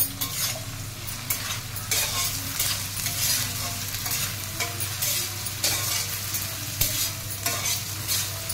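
Onions fry with salt in a pan, a dense steady sizzle with frequent spatula scrapes and taps recurring every second or so, close and prominent.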